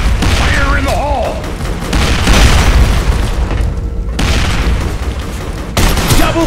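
In the shooter game District 187, grenade explosions go off as loud, heavy booms with rumbling low-end blasts and debris over several seconds. Gunfire-like bursts and game effects sound around them.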